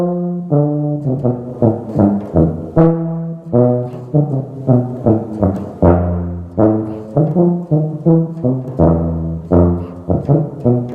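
A tuba plays a practice exercise of runs, a rhythmic sequence of short, separate notes moving up and down in pitch, close and loud with brief gaps between phrases.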